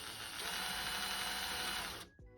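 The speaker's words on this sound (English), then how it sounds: "I am just going to pre-drill some holes out." A power drill boring pilot holes into wood planks, one sustained loud whirring run that cuts off abruptly near the end, leaving a faint rattle.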